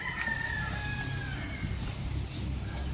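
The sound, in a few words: chickens clucking and crowing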